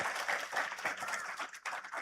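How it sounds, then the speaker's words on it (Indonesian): A crowd claps for Kiai Yahya Khalil Staquf, head of PBNU, at a pesantren gathering, steady lively applause from many hands close by. "Tepuk tangan dong untuk Kiai Yahya Khalil Stakuf"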